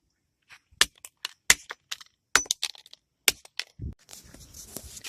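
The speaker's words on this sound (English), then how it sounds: "smashed it up with the hammer" A flip phone smashed with a hammer: a run of sharp, loud cracking impacts with crunching and breaking at irregular intervals, followed by rustling debris and a low thud near the end.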